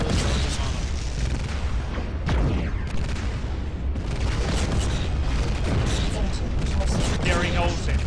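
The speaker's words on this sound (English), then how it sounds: "Gary Olsen, keep firing on him." Heavy gunfire and booming blasts aimed at an assault mech in a combat video game, a loud, dense and continuous barrage with rumbling impacts and no clear pauses.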